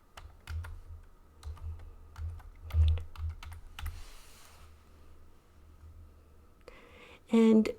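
Computer keyboard typing as a project name is entered: a run of crisp, close key clicks with short gaps, then a burst of noise and a brief tone near the end.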